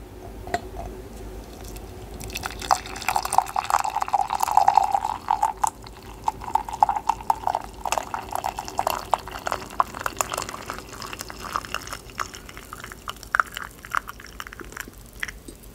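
Water poured into a cup for a warm drink in a quiet indoor setting, a close, soft liquid trickle and splash running steadily for several seconds, then tapering into faint drips and small clinks.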